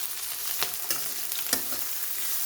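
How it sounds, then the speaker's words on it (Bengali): Sliced onion and green chilli hit hot oil in a pan, giving a steady broadband sizzle with a few sharp scraping stirs standing out, fairly close and with no voices. "এবারে আমি তেলের মধ্যে দিয়ে দেব পেঁয়াজ আর কাঁচা লঙ্কা।"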